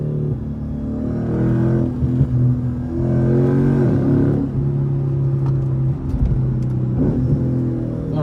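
A Lexus ISF with a newly installed exhaust accelerates through hills, its engine note a loud, steady, deep drone that swells and rises in pitch across several pulls, heard from inside the car.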